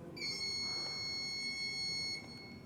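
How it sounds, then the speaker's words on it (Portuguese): A Kota Press machine gives one long, steady electronic beep during its program recovery process, a clear high tone that holds for about two seconds and then stops. "ocorrerá um bip longo"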